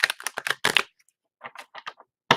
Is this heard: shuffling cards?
yes